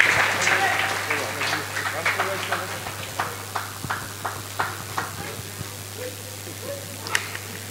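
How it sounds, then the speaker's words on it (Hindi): A crowd at an outdoor Ramayan stage event in Charbhata applauds honoured guests, starting as dense clapping that thins into scattered, rhythmic claps over a steady electrical hum. "चलिए सम्मान से जोरदार ताली कीजिएगा।"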